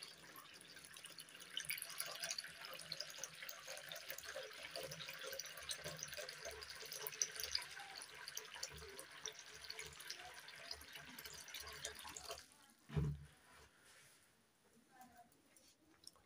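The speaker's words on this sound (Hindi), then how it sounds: "अब इस पर डालते हैं पानी।" Water pours and trickles onto an Infinix Hot 12 Play phone during a water test, a faint continuous splashing hiss with a brief heavier splash near the end, while someone talks.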